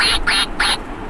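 A squeezable toy duck, pressed at its base, lets out two sharp, high squeaky quacks in quick succession, close and fairly loud over a faint room hiss.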